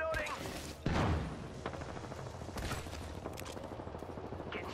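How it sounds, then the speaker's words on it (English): Rapid bursts of gunfire crackle through an Apex Legends firefight, with one heavy thump near the start and steady automatic shots continuing throughout, under faint background voices. "Getting shot at."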